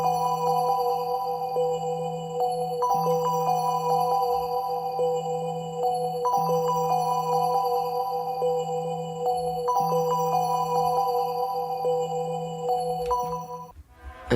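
A synth bell preset named Catalyst plays a looping beat in FL Studio: bright, steady bell tones repeat in a regular pattern over a low sustained note, with no talking.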